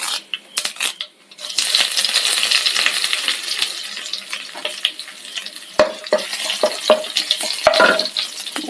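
Curry leaves crackling and sizzling in hot oil in a pan after mustard seeds have popped, with a steady loud fry punctuated by sharp pops and a few utensil clinks, no talking.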